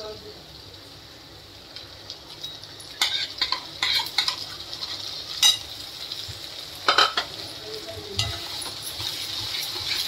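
Garlic, ginger and tomato puree frying in a pan, a low steady sizzle broken by several sharp scrapes and clinks of a spoon stirring against the metal, close by.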